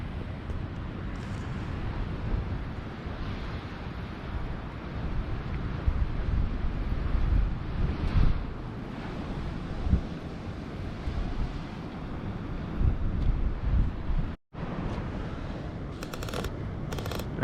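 Wind buffets the microphone on a chalk cliff coast while waves surge below, a steady, loud, rough roar with occasional stronger gusts and a brief dropout near the end.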